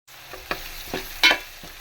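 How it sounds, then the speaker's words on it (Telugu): Softened onions frying in a pan as they change colour, a close sizzle punctuated by a few distinct stirring scrapes of a spoon, with one louder scrape near the end. "ఆనియన్స్ కలర్ చేంజ్ అయినాయి కదా, బాగా మెత్తబడ్డాయి. కొంచెం వేగనిద్దాం."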